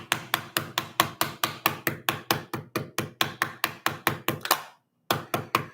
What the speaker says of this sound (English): you really got to hammer around them like 2 or 3 times in order to get them to set properly